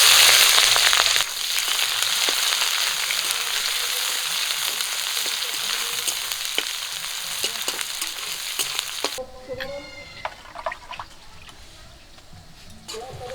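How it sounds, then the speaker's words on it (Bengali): Chopped onion and green chilies fry in hot mustard oil with bay leaf, cinnamon, cardamom and cloves, a loud steady sizzle with stirring clicks that drops abruptly to a quieter crackle with scraping near the end. "কাঁচা লঙ্কা আর পেঁয়াজ লাল করে ভেজে নিয়েছি"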